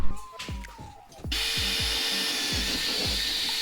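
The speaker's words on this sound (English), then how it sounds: "And then you drill it, and then you install it." A power drill bores holes for a side rail on a half-cabin boat under restoration, first a few short taps and knocks, then a steady high whine running continuously at close range.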